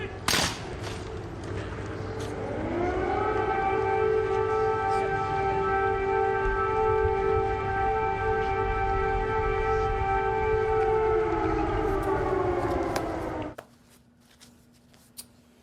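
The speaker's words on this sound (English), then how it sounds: "Note the air raid sirens in the background." A long wailing air raid siren in Kyiv rises, holds a steady tone for several seconds, then winds down and stops, leaving faint background noise.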